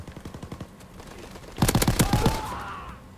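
Automatic weapon fire from a WWII multiplayer shooter, the AVS rifle: a quick string of lighter shots, then a louder, tighter burst of rapid rounds ringing out near and close.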